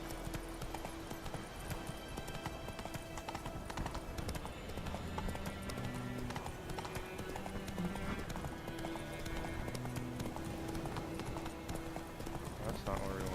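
Roach, Geralt's horse in The Witcher video game, galloping with rhythmic hoofbeat clip-clops over game music, with a speaking voice in places.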